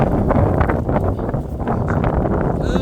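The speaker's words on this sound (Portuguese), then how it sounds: "ventania" Strong gusts buffeting a microphone while someone walks outdoors, a loud, continuous low rumbling roar that fills the whole stretch, with no clear talk over it.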